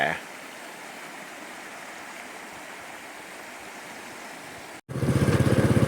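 A rain-fed stream rushes into the Nam Ou river in northern Laos, a steady broadband wash of flowing water that holds constant before a brief cut to a louder, rougher rumble.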